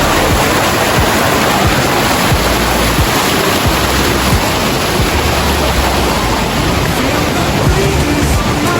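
Loud, steady rushing water roars continuously close by, a dense, unbroken wash of noise with no pauses.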